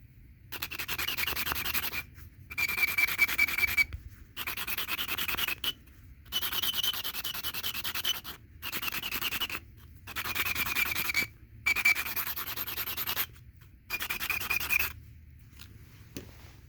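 A Hixton quartzite point is rubbed on fresh sandpaper in eight rhythmic bursts of about a second each, a close, loud gritty scratching with short silent pauses between strokes.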